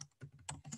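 Computer keyboard keys tapped in MS Word, a short run of close, quiet clicks in quick irregular succession with no voice.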